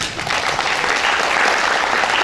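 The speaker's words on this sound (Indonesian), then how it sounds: "Tepuk tangan" Dense, steady applause from an audience at a university graduation ceremony, loud and sustained throughout with no talking over it.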